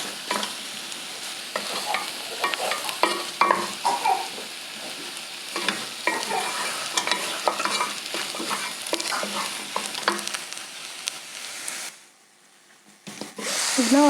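Beef stew with tomatoes and green pepper cooking in a pot, soft sizzling with repeated spoon scrapes and stirring clatter, close and fairly quiet, briefly going silent near the end.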